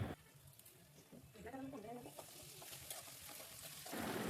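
Mustard seeds and fenugreek frying in hot sesame oil, a faint sizzle and crackle that grows steadier and louder toward the end, with a voice speaking quietly under it.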